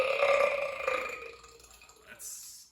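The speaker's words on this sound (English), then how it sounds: "that's a competitor for Burp of the Week." A loud, drawn-out burp rumbles through the first couple of seconds, then tapers into quieter noise and a brief faint sound near the end.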